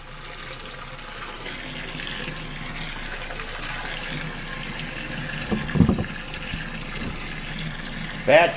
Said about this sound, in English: We're getting our strike water in the kettle here.